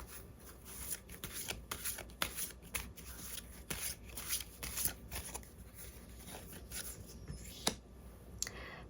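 Tarot cards shuffled and drawn by hand: a steady run of crisp riffling and slapping card sounds, close and fairly loud, with brief pauses between bursts and no talking.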